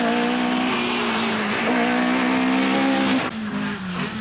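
A Talbot Sunbeam Lotus rally car races flat out at the 1982 Ulster Rally, its engine holding a loud, steady high note close by, with a brief dip near the end as it shifts or lifts off.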